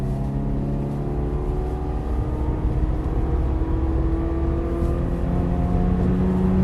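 A race car in an SCCA time trial at Hallett circuit powers out of a turn, its engine droning steadily and close with a slowly rising pitch under acceleration.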